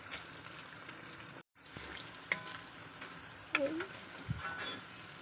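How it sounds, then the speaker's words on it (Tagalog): Onions fry and brown in a large pan, a steady sizzle punctuated by a few scraping stir clicks and clatters, briefly cutting out near the start. "Ang hirap pala magpa-brown ng sibuyas."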